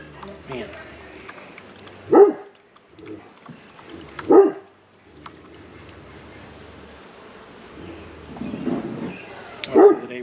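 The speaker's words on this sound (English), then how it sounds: "Roubaix likes to bark at things." A dog barks in three or four sharp single barks spread across the stretch, close by, with people talking and calling out around them.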